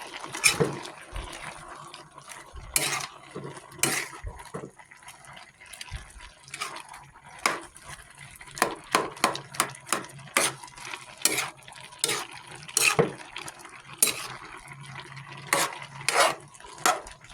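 A spoon scrapes and clinks around a pot of simmering pineapple jam, the irregular stirring knocks and wet sloshing repeating up close throughout.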